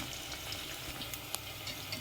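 Spice paste with chillies frying in a pan for Tadipatri dum biryani, a faint, steady crackling sizzle with a few small pops, heard close and without any talking.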